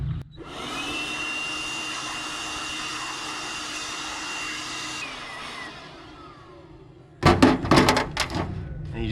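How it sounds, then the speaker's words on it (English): Compressed air hisses steadily through an old vehicle air filter for several seconds at a roadside stop, a loud continuous rushing whine that tapers off, followed by a few sharp knocks and thuds of the filter being handled. "Blow out the old air filter."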